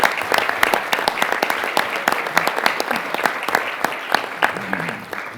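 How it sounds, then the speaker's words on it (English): Enthusiastic audience applause for Assemblyman Joseph Saladino at a public announcement, with sharp individual claps standing out over the crowd and a few faint voices underneath, tapering slightly at the end. "Let's give him a round of applause."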